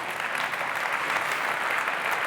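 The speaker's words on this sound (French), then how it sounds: "C'est un applaudissement pour Olivier." Applause from the audience at the SVC Geneva business award ceremony for a man named Olivier, a brief, even wash of many hands clapping heard from within the hall.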